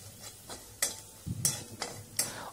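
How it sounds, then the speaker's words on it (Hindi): A spoon stirs powdered spices, coriander powder and red chilli powder among them, into cauliflower in a pan: several soft scraping sweeps at an irregular pace, with a faint sizzle beneath. "इन सबको डालने के बाद में मैं इसको अच्छे से मिक्स कर देता हूँ"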